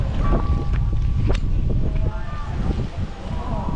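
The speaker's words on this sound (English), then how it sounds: "It's quite windy." Steady gusting wind rumbles against the microphone, with faint tonal whistles and distant sounds drifting beneath the buffeting.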